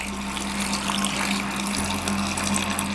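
Water pours from a tap into a pressure cooker holding soaked chana dal, a loud, steady gushing splash with a low hum beneath it, continuous and close for a few seconds.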